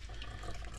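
Tap water pours steadily from a bathtub faucet into a whole chicken being rinsed for roasting, a continuous close splashing rush with no talk.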